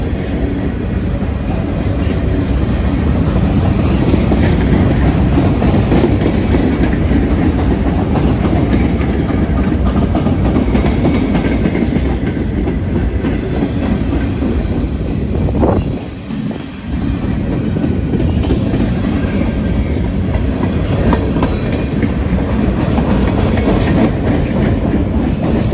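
A long cargo train rolls past steadily at close range, with loud continuous rumble and rhythmic clickety-clack of wheels over rail joints as the different freight cars go by, with a brief dip in the noise partway through.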